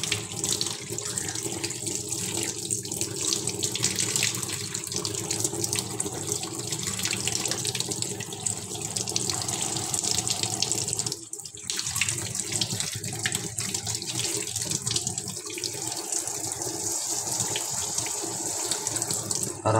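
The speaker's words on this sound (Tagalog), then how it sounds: "Tubig." Tap water runs steadily into a sink, a continuous close rushing splash lasting throughout with only a brief dip partway and no clear talking.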